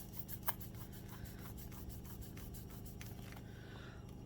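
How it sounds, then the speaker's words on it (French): A rubber eraser scrubbing across paper while filling in a monthly savings chart, heard as close, rapid back-and-forth rubbing strokes in a steady run with no talking. "Ici, on va gommer"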